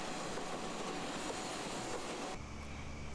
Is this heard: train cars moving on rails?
yes